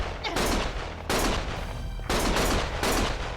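Bursts of gunfire in the video game Lost Judgment: three loud, dense volleys of rapid shots, each lasting about a second, separated by short gaps with no talk.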